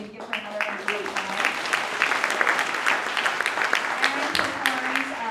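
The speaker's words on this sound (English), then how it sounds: "Can you give her another round of applause?" An audience at a school Christmas program gives a singer steady, full applause after her performance, the many hands clapping at an even level throughout.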